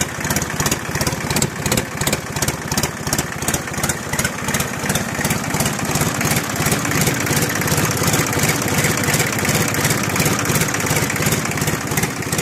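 A road roller's diesel engine idles unevenly after its injection pump was tuned, a loud, close, pulsing chug that surges and dips in rhythm with no voices.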